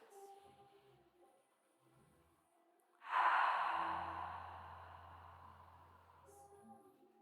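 A single deep breath during a Pilates core and glutes session: a quiet stretch, then a loud, broad rush of air that slowly fades over several seconds, with a faint low hum beneath.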